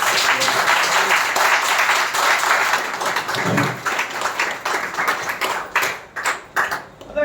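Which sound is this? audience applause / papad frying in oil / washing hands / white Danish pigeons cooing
audience applause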